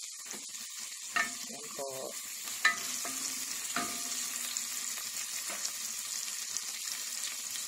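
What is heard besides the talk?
sautéing garlic in a pan for chicken curry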